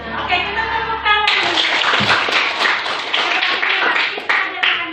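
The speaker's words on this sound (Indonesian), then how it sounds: "kita tepuk tangan" A group of people clap their hands together in a steady burst of applause that starts abruptly and continues loud and dense, following a voice and music at the start.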